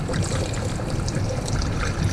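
Coolant poured into a container on a 1998 Integra GSR turbo, a steady liquid trickle and splash that runs continuously and close up with no pauses.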